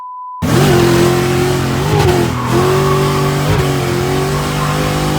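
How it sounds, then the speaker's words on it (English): A modified BMW E30 fitted with an E36 front lock kit and E46 steering rack drifts at a car show, its engine revving hard and loud with steady high-rpm drone and brief dips as throttle shifts. "I've never experienced Lee drifting before."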